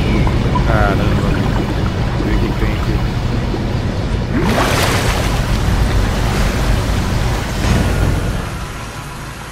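Water draining in the video game SOMA makes a loud, continuous rushing roar that swells and surges, with a voice briefly speaking over it.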